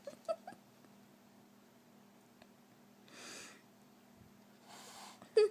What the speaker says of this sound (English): That wasn't one heck of a sneeze.